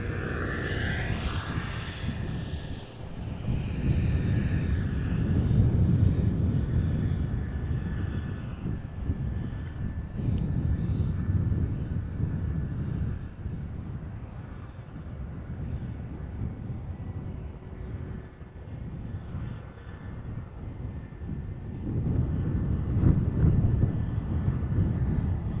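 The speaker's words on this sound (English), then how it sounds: "777-200 arriving from Lima for center" A Boeing 777-200 arriving from Lima at Amsterdam Schiphol, a low, rumbling jet engine roar heard from a distance, swelling and fading in waves with wind buffeting the microphone over about twenty-five seconds.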